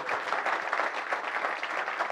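Audience applause at a Marathi play event, a continuous dense patter of many hands clapping together, moderately loud and steady throughout with no voices over it.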